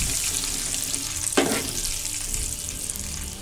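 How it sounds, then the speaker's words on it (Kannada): Oil sizzles steadily in a pan as mustard seeds, cumin and a ground paste temper over low flame for sabudana khichdi, with one brief louder burst of spluttering partway through and no talking. "ಇನ್ನೊಂದು ಪ್ಯಾನಿಗೆ ಸ್ವಲ್ಪ ಎಣ್ಣೆ ಹಾಕಿ ಅದಕ್ಕೆ ಸಾಸಿವೆ, ಜೀರಿಗೆ ಮತ್ತು ರುಬ್ಬಿಟ್ಕೊಂಡಿರೋಂತಹ ಮಿಶ್ರಣ ಇಷ್ಟನ್ನು ಲೋ ಫ್ಲೇಮಲ್ಲಿ ಸ್ವಲ್ಪ ಒಗ್ಗರಣೆ ಕೊಟ್ಕೊಳ್ಳಿ"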